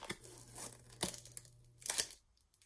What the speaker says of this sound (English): Nudge my nail in that corner and then peel it right off.